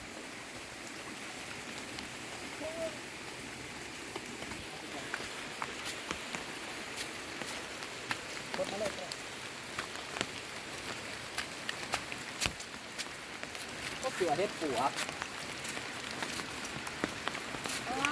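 Steady rain patters on surfaces, with scattered louder drops growing denser toward the end; a voice speaks briefly and softly.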